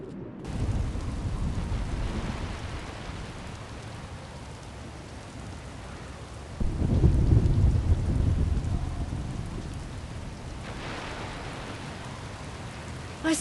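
Heavy rain pours steadily in a video game thunderstorm, with a deep rolling rumble of thunder swelling midway through and fading, loud and close with no voices.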